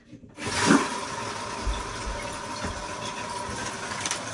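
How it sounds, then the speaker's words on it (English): Water rushing steadily into a hands-free bidet toilet seat just after the household supply is turned back on, a continuous hiss and low hum with no talking. "Toilet seat is filling it up."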